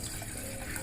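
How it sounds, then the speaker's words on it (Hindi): A glass of water pours steadily into a pot on a stove, a continuous rushing, splashing sound, close by and fairly quiet. "एक गिलास हम पानी डाल देते हैं।"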